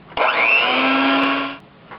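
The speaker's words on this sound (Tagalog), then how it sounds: "Habang binibeat natin yung egg," Electric hand mixer beating eggs for chocolate crinkles, a close steady motor whir starting abruptly, holding for over a second, then cutting off.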